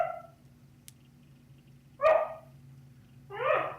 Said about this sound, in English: I think I hear a dog wanting one for the ASPCA.